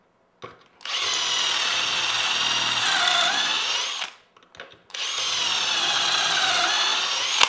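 A power drill whines loudly in two sustained bursts, about three seconds each, with a brief pause between them, drilling pocket holes through a pocket-hole jig.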